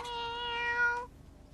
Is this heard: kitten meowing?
yes